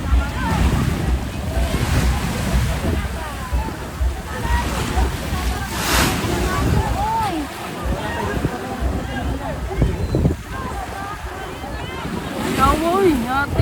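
Strong ocean waves surge and slosh close by in steady wind, with buffeting gusts on the microphone and a rumbling boat-like wash underneath, while people talk over the water throughout.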